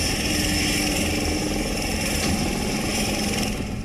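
An HAL Light Combat Helicopter (LCH) runs its engine and rotors, a loud, steady turbine drone with a continuous whine and a dense low rumble, close and unbroken throughout.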